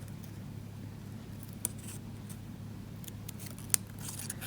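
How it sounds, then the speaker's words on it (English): Faint, quiet snips of scissors cutting paper, a few soft clicks spread apart over a low background hum. "I'm just going to bring my scissors in"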